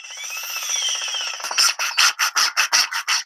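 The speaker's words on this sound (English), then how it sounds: "2-inch holes are bored through the siding and rim joist just above the basement wall" Drill boring 2-inch holes through house siding and the rim joist just above a basement wall, a steady grinding whir followed by a quick series of about eight rhythmic rasping bursts, loud and close.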